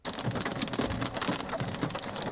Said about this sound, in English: There's some hail falling.